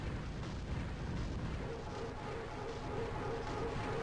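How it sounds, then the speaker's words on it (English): Gunfire and explosions hitting a ship in the space game Escape Velocity Nova, a steady muffled rumble of booms and bursts packed tightly together, faint and continuous with no clear gaps. "Sounds like he's getting shot at."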